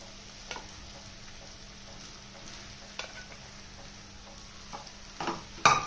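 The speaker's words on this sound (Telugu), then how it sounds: "రైస్ వేసిన తర్వాత మొత్తం కూడా నీట్గా కలిపేసుకోవాలి." Cooked rice being folded into tomato rice in a pan, giving soft, quiet scraping and stirring over a low background hiss, with a sharper spoon clack near the end; no talking.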